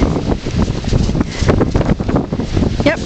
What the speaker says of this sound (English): the wind's blowing so hard you can't see that snowdrift that goes over the fence